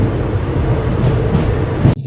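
A passenger train on the G7 line runs steadily on the rails, a loud, close rumble with a rhythmic wheel clatter and a brief high squeal partway through, ending in a sudden jolt.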